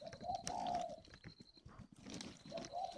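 Doves or pigeons cooing in soft repeated phrases, two bursts with a pause between, fairly close and quiet with no talk.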